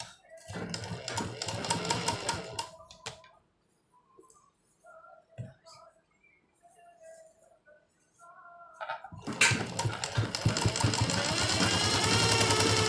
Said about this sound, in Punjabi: ਇੱਥੇ ਸਿਉਣ ਭਰ ਕੇ ਫਿਰ ਮੈਂ ਇੱਥੇ ਸਿਲਾਈ ਕਰ ਲੈਂਦੀ